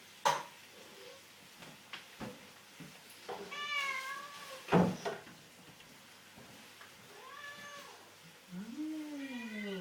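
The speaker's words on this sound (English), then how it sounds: "There's my cat." A pet cat meows several times in a home kitchen, with drawn-out, rising and falling calls spread across the stretch, among soft thumps and handling noises nearby.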